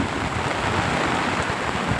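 Heavy rain pours down steadily during a storm in a village, a dense, even hiss of falling water with no pauses.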